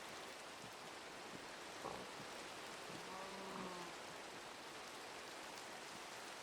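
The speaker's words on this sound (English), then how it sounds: "Oh, it's raining!" Rain falls steadily in Minecraft, a soft, even hiss of drops filling the scene at low volume, with a few faint game tones and small sounds drifting through partway.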